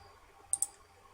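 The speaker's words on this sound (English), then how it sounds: "So I'm clicking the calculate VNAV button" Two quick, crisp mouse clicks close together in a quiet room, pressing a button in a flight simulator on a computer.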